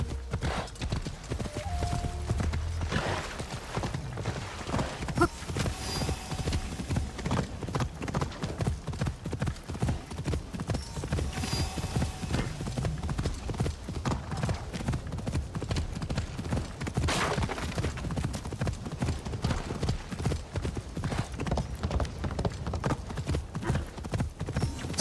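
Horse hooves galloping steadily in a video game, a fast, even clip-clop rhythm that continues throughout at close range, with brief faint extra sounds layered over it.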